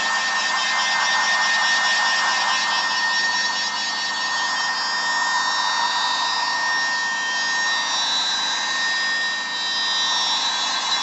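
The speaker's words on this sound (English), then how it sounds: "I take my heat gun, speed up the process a little bit" Heat gun blowing hot air over freshly glued cracked panels, a continuous loud whooshing fan roar heard up close, steady with slight dips in level and no talk.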